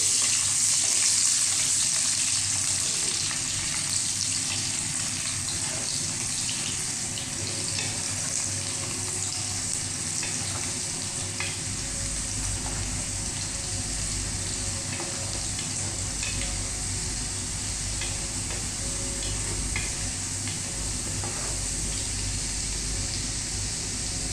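Ginger and garlic frying in oil in a pan, a continuous close crackling sizzle that holds steady throughout, with a low hum underneath and occasional soft stirring.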